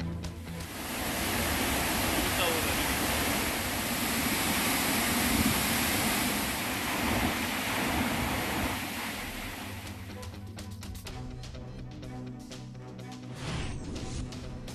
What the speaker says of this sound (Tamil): ஒகேனக்கலுக்கு வினாடிக்கு ஒரு லட்சம் கன அடி நீர்வரத்து பாறைகளை மூழ்கடித்து செல்கிறது தண்ணீர்